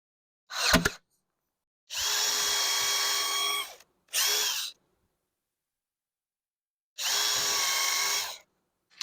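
Power drill pre-drilling holes for decking screws in a wooden fence: a brief whir and then three steady, high-pitched bursts of drilling, each lasting one to two seconds, separated by silence, close and clear.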